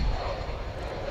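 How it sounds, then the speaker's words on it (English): An American Airlines Airbus A319 arriving from Pensacola at DFW Airport gives off a steady, moderate jet engine rumble, broadband and continuous in the brief moment. "Airbus A319 coming in from Pensacola now in Florida"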